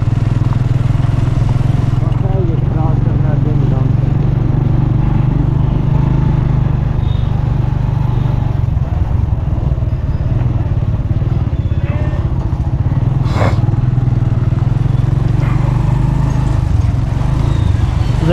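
Motorcycles run loudly and continuously on a road in Pakistan, with a close, steady engine drone and clattering, a voice speaking briefly underneath.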